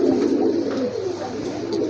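Pigeons coo continuously in a low, throaty murmur at a pigeon market, with several birds overlapping in a steady warbling drone and no pauses.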